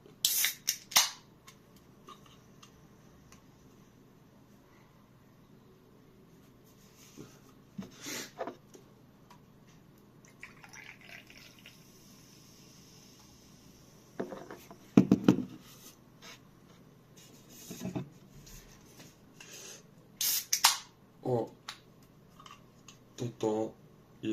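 Two Hell energy drink cans, green apple and blackberry, are cracked open with sharp pops and fizzing hisses, scattered across a quiet stretch with faint handling noises.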